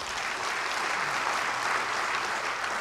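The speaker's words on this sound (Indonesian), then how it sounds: "beri tepuk tangan buat Tuhan" A church congregation gives steady, dense applause, a continuous wash of many hands clapping at moderate distance with no talk over it.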